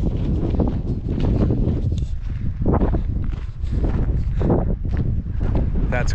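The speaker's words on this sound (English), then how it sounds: "It's getting windy." Steady wind buffeting the microphone with a low rumble, while people talk nearby at a desert mine along the Mojave Road.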